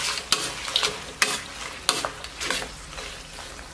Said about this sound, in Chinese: 然后咱们把葱姜给它下到锅中，然后来点腐乳，然后来勺郫县豆瓣酱，